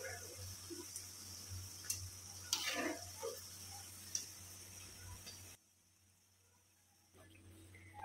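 Murukku fries in hot oil over a medium flame with a soft, steady sizzle and faint ticking for several seconds, then the sound drops away to near quiet.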